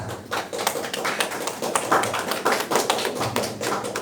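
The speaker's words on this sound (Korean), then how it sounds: "큰 박수 부탁드리겠습니다" An audience at a Korean social-enterprise training session claps in steady, fairly close applause, a brisk crackle of many hands that holds at even loudness for a few seconds with no talking over it.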